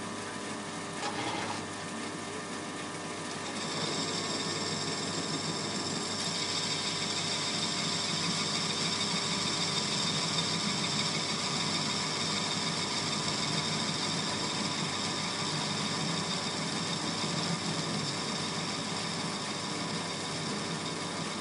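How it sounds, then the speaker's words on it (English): A CNC lathe spindle turns at 400 RPM for a facing cut at a 40 mm per minute feed, giving a steady machine hum with a constant whine and hiss that rises slightly after a few seconds and then holds evenly, with no talking. "When I press the start button, facing should start with 400 RPM and 40 mm a minute feed rate."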